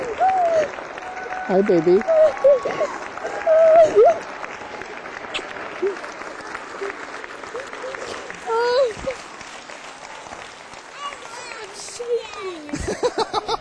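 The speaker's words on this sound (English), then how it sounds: "The crowd gave this surprise reunion a standing ovation." A crowd applauds and gives a standing ovation for a soldier's surprise reunion with his family, steady clapping under close voices and a brief greeting, with louder bursts early on.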